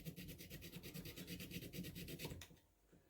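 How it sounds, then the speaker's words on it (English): Rhythmic back-and-forth wet sanding with a pad lubricated with WD-40 on a Wico magneto part, steady rasping strokes about three or four per second, close up, then stopping. "Wet sanding is always more effective than dry."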